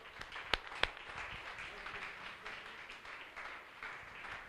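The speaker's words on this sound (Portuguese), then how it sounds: "Salvo de palmas a ele" Scattered applause from a congregation in a church service, faint and sparse, with a couple of sharp nearby claps standing out early and murmuring voices underneath.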